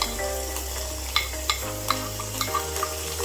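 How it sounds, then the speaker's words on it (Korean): Garlic and chopped onion, tomato and mushroom stir-frying in a pan, a steady close sizzle with a few sharp clicks of stirring against the pan. "마늘이 어느 정도 볶아졌으면 저희가 아까 잘라놓은 그 야채들을 같이 넣고 볶아볼게요"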